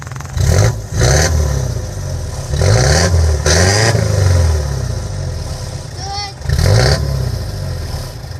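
A 2.4-litre non-turbo diesel in a Toyota Land Cruiser revs in several short rising bursts, loud and close, with clattery idle between them and a brief whistle-like squeal.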